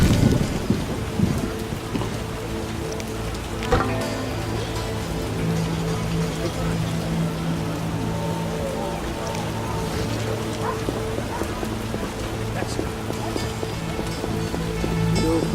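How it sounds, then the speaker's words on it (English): Steady rain with a rumble of thunder in The Witcher video game, a continuous wash of rainfall and low rolling thunder, with a louder burst near the start and a brief spike around four seconds. "It rains and it rains."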